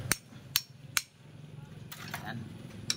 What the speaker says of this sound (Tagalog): At konting pukpok.